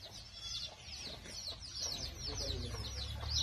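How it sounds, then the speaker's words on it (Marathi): A hen clucks softly among her many chicks on a farm, with faint high peeping from the chicks and low, quiet clucks in a calm outdoor setting. "25 पिल्ल एका कोंबडीच्या मागे लावले ती"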